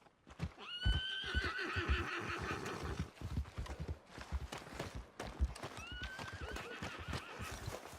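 A horse whinnies loudly twice in Red Dead Redemption 2, shrill rising calls separated by a few seconds, with hooves clopping and stamping nearby.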